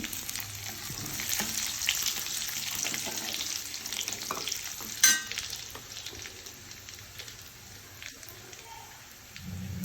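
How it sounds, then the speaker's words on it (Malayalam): Steady sizzle of dried red chillies frying in oil in a pan, with occasional stirring clinks, close and moderately loud, with no speech. "ഇത് ചുമന്നപ്പോൾ വറ്റൽമുളക് ഇട്ടെടുക്കുകയാണ്"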